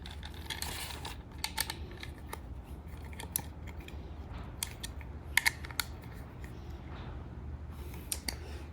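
Small metallic clicks and ratcheting creaks from a 5mm Allen wrench tightening bolts on an Öhlins shock absorber for a Jeep Wrangler, soft and close, scattered irregularly over a quiet background hum.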